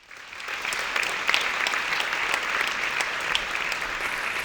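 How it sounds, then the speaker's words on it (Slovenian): An audience applauds to welcome a speaker onto a stage at a lecture event, dense even clapping rising quickly and holding steady, fairly close and continuous. "Z aplavzom pozdravimo na odru"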